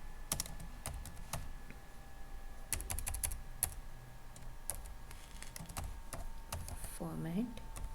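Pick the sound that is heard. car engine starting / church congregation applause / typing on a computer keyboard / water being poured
typing on a computer keyboard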